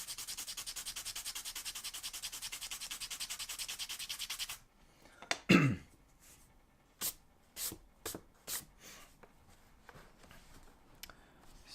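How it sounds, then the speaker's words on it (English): A small sanding block rubs a pencil tip to sharpen it: steady rapid scratchy strokes for several seconds, then a pause and a handful of separate brief rubs, close and quiet, with no talking. "So I've got a little sanding block"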